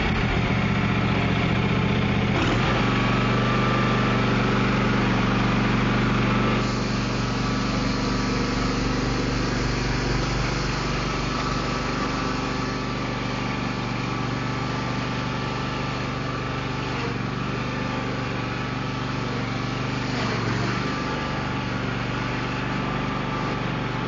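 A lawn mower engine idles steadily and loudly up close, with a constant low hum and an even mechanical drone from start to finish.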